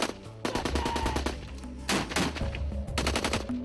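Rapid bursts of automatic live gunfire during a military ground assault exercise on an objective, loud repeated volleys with short pauses between strings of shots, no talking.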